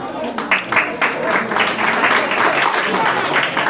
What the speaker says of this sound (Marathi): सर्वांनी तिथे टाळ्या वाजवून स्वागत करायचं आहे